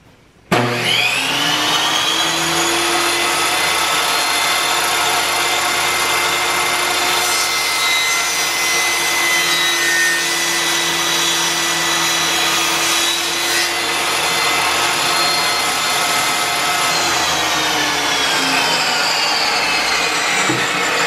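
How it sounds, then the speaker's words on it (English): A table saw spins up and cuts steadily through a table top for a homemade outdoor cook table on a 6 x 10 cargo trailer, its loud sustained whine and blade rasp running nearly twenty seconds before winding down. "let's give it a little shot and see if the table saw will cut it"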